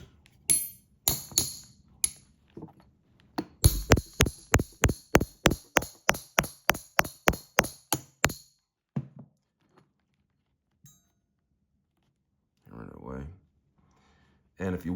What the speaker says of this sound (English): I'm going to go ahead and just hammer away at it a little bit more.